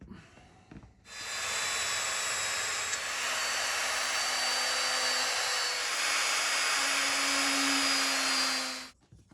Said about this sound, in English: So if I drill down the center of each of those spots of paint, they should match up.